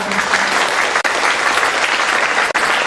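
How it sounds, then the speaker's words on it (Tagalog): Loud, dense applause from an audience honoring parents at a gathering, close and sustained, with two brief cuts breaking the clapping. "palakas na palakpak po para sa kanilang lahat"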